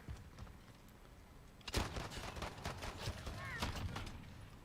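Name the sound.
shotgun that looks like an AR firing, from a video game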